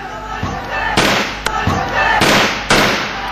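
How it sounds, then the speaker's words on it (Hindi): Several sharp gunshot-like bangs ring out, spaced irregularly over a few seconds, as a terrorist fires into the air from a white car's window, with a noisy crowd-like background. "कार की विंडो से एक आतंकी हवा में फायरिंग करता हुआ नजर आ रहा है"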